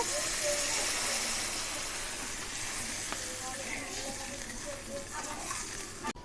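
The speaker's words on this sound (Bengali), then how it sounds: "এবার অল্প করে জল দিয়ে দেব" Water splashes into hot oil and spice masala for Bengali tel koi, raising a loud, broad sizzle and hiss that slowly settles over several seconds, with a faint clink near the end.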